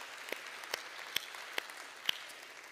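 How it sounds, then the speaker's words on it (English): A church audience gives faint, sparse applause for the serve team, with a soft bed of clapping and a few sharper individual claps standing out at irregular intervals. "can we just applaud you and thank you for helping us create such an amazing experience?"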